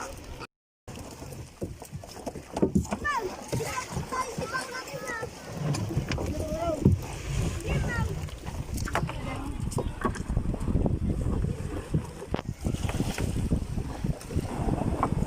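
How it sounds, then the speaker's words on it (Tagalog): Strong sea waves surge and wash along a beach shore during net fishing, a continuous rough roar mixed with wind buffeting the microphone, while people talk throughout. "Lakas ng alon dito sa gilid."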